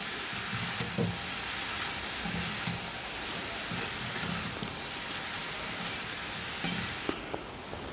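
Onions with salt and turmeric powder frying in a pan for a raw banana masala curry, giving a steady, loud, close sizzle with occasional stirring scrapes.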